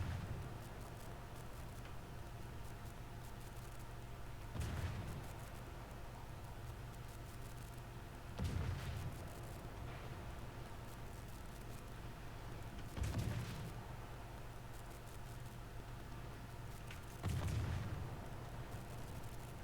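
Ship guns in the World of Warships video game fire in four spaced, booming salvos about four seconds apart over a constant low background hum.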